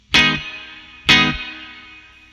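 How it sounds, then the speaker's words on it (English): Two loud, bright guitar strums through the plate setting of a Joyo Atmosphere reverb pedal, each washing into a long shimmering ambient tail, with no talking. "the plate is a bright sounding kind of big ambient reverb"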